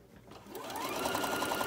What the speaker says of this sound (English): So I'm going to sew this all the way around.